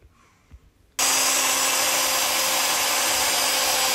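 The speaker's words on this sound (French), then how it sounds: "Là, je mixe avec l'appareil. Le chocolat, l'eau chaude." After a second of near silence, a hand blender switches on and runs at a steady, loud, high whir, blending chocolate with hot water continuously to the end.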